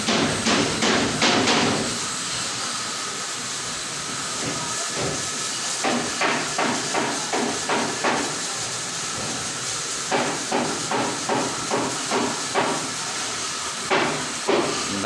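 Sharp hammer blows from construction work next door come in irregular bursts of several strikes, pausing between bursts, over a steady background hiss; no one speaks.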